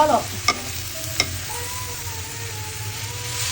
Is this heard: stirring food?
yes